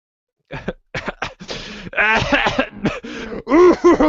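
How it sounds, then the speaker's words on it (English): A person nearby coughs repeatedly and clears their throat in a series of sharp, close bursts separated by short pauses, growing louder toward the end. "In case you didn't hear, I was coughing."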